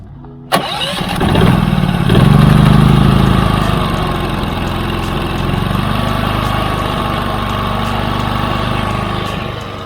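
Cummins generator engine cranking and catching with a sharp onset, then running loudly at a steady rumble as it settles to an even idle, close by and without talk.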